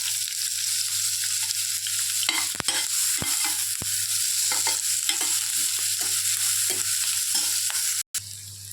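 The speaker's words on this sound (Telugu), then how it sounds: "వీటన్నిటిని బాగా లైట్ బ్రౌన్ కలర్లో వచ్చేటట్టు ఫ్రై చేసుకోవాలి" Sliced onions frying in a pan as the base of a tomato rice dish, a steady bright sizzle with repeated soft scrapes and knocks of stirring, close and continuous under a low hum.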